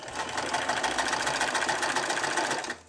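A sewing machine runs steadily for almost three seconds while stitching a hooded shirt, a close, continuous whirring rattle that stops abruptly at the end.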